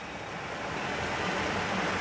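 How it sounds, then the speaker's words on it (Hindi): Drain water pours steadily into the Yamuna river, carrying garbage with it: a dense, continuous rushing hiss that swells slightly louder toward the end, with no voices. "फिर वो पानी ये जमुना जी जा रहा है।"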